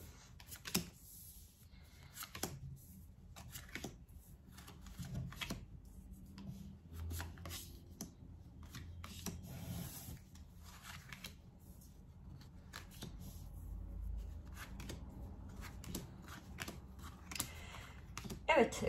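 Tarot cards are shuffled and drawn close by, producing repeated crisp riffling bursts and soft card slaps in an irregular rhythm, with quiet room noise between them.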